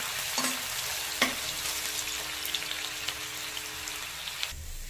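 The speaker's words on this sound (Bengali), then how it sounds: "ভালো করে এবার পেঁয়াজটাকে লাল লাল ভেজে পেরেস্তা বানিয়ে নেব।" Chopped onions frying in hot oil, a steady close crackle and sizzle with occasional spatula stirs and scrapes against the pan, no voices.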